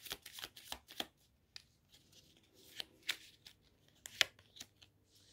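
Tarot cards being shuffled and laid out on a table, a quick series of crisp riffling flicks and soft slaps of varying loudness with brief quiet pauses between, close and alone.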